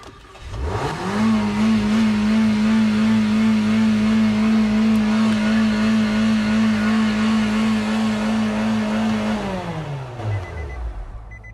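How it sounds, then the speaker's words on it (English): A car engine revving hard with a floor mat pressing down the gas pedal, climbing quickly to a loud, sustained high-rpm roar held for about eight seconds before sliding back down. "fire the car up, sounds like it's gonna go 100 miles an hour"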